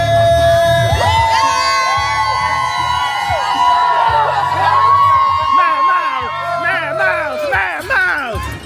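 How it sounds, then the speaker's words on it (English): Spectators at a roadside cheer station during a 10k race on a closed highway in Charlotte, NC, cheer, whoop and shout continuously, a loud, close crowd with rising yells and whistles throughout. "Got another cheer station."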